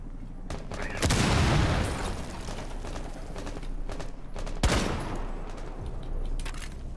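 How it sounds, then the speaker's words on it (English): Gunfire in the video game Rainbow Six Siege: two loud sharp blasts with rattling bursts and mechanical clatter between them, over a constant busy background of game noise. "Nice shooting, Durag."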